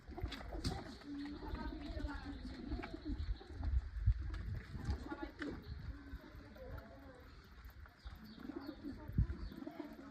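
Pet pigeons cooing softly and repeatedly as they drink water, with light splashing from the water dish, heard close while a person talks over them.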